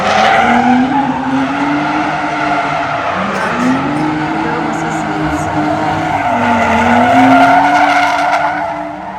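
Drift cars slide around a race track with long wavering tire squeals that rise and fall over a steady engine roar, loud and continuous throughout.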